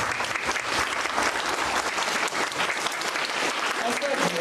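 Dense, sustained clapping from an audience at a school event fills the hall, loud and continuous, with faint voices mixed into the crowd noise.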